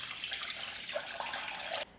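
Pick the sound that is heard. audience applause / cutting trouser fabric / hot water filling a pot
hot water filling a pot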